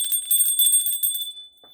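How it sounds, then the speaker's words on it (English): A small bell rings several times in quick succession, bright and sustained with a clear ringing tone that fades out near the end. "let's ring the bell to lighten the energy up"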